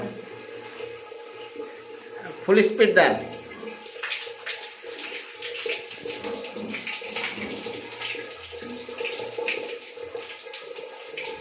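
Water gushes from a shower in a simple village house, a steady rushing spray that runs through the whole stretch with a louder burst early on, while people talk over it.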